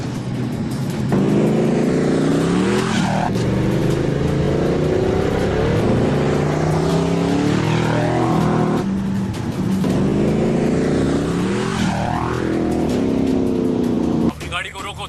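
A car engine roars steadily while driving in a Hindi-dubbed Hollywood action film, loud and sustained with surging revs and shifts, under tense dialogue.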